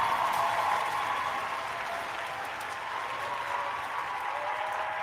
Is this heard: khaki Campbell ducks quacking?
no